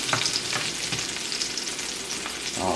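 Okonomiyaki with bacon sizzles steadily on a hot griddle after being flipped, a dense continuous hiss with occasional spatula scrapes, close and fairly loud throughout.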